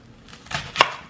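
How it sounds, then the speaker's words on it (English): Knife chopping the ends off a large white onion on a cutting board: two distinct crisp cuts, the second sharper and louder, close and alone without talk. "white onion, I literally just take the ends off of it"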